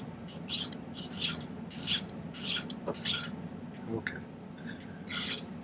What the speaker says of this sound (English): And it's going to take quite a bit of filing.